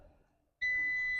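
A van's seatbelt warning sounds on private land, a steady electronic tone switching on abruptly after a near-silent moment and holding loud and unbroken.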